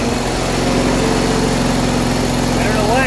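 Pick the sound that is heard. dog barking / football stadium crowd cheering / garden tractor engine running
garden tractor engine running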